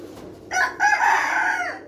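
A native desi rooster on a rooftop gives one close, loud crow, a short rising call followed by a long drawn-out tail, with quiet surroundings.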